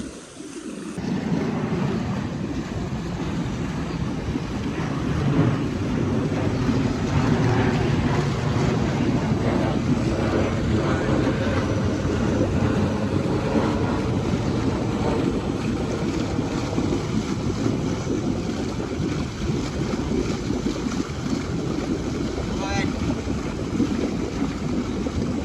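An air blower runs steadily while clearing pool lines for winterizing, producing a loud, continuous broadband roar that holds unchanged for the whole stretch with no talking over it.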